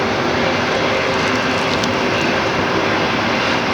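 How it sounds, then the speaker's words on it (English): Steady, dense roar of a Boeing 757 on final approach to Fort Lauderdale, loud and unbroken throughout with a faint whine on top and no voices. "But 2 aircraft on final approach at the same time for Fort Lauderdale, 757s."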